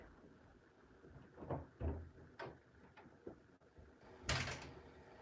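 A home door is handled, creaking and knocking through several muffled bumps before a louder thud or slam near the end, close by with no talking.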